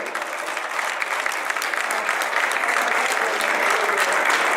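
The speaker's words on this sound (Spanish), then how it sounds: "al profesor José Antonio Torres Solís, para quien pido un fuerte aplauso." Steady, sustained applause from a sizable crowd, dense clapping filling the whole stretch at an even, loud level.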